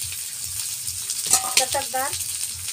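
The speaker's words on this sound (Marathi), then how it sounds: "आपण तव्यामध्ये पहिले लाल भडक कांदे भाजूया।" Onions sizzle as they roast on a griddle over a wood-fired clay stove, cooked for patavadi; a steady close frying hiss runs throughout while a person speaks briefly in the middle.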